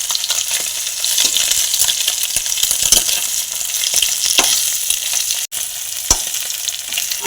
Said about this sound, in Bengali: আমার বাকি মাছগুলো ভাজা হয়ে গেছে